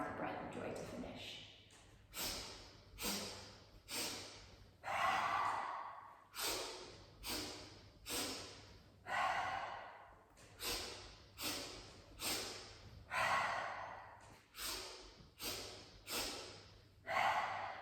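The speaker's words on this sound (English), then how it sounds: "let's just take 5 rounds of breath of joy to finish" Breath of joy exercise done through a wide-open mouth: close, forceful breaths in quick repeated bursts, rising in sets of short inhales before a big whoosh of exhale, cycling steadily for several rounds with no talking.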